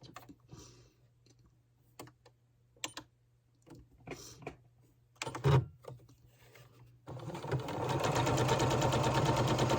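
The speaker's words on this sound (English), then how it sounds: "you'll just turn just the top over and sew along it in a straight line" A sewing machine top stitches a straight line along a jeans pocket. A few scattered clicks and handling sounds come first, then the machine runs continuously with a fast, even whir for the last two seconds.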